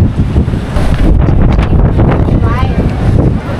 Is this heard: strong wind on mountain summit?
yes